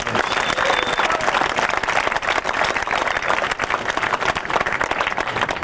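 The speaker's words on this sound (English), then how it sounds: "can I hear a big round of applause?" Applause from the audience at a 1992 ship's concert aboard HMAS Hobart: dense, loud clapping that continues steadily from start to finish, with no talk over it.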